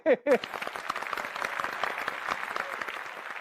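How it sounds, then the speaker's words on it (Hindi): Studio audience applause during a Hindi TV sitcom episode, a brief burst of voices at the start and then a steady patter of clapping from a small crowd. "तालियां तो बजाइए।"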